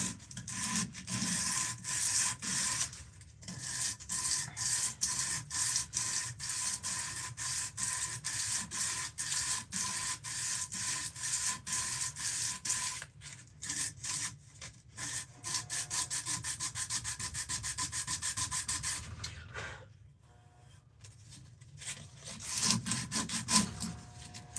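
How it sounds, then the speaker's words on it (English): Sandpaper rubbing steadily over a wooden spoon being finished for a deep walnut stain, a continuous close scratchy friction in quick back-and-forth strokes with a few brief pauses, no talking. "And then when I'm all done sanding it"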